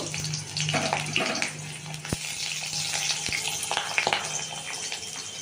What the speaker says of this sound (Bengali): কড়াইতে তেল গরম করে আমি এবারে একদিকে আলুটা ভাজতে দিয়ে দিলাম